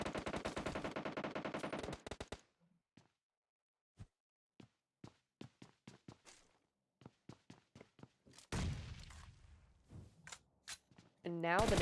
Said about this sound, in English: on point with those M249 sprays